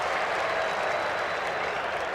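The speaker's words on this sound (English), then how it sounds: "As James Hird now comes off to the cheer of the crowd" Stadium crowd at a 2000 AFL preliminary final between Essendon and Carlton cheers and applauds steadily as James Hird leaves the ground, a dense, continuous roar of clapping at moderate distance.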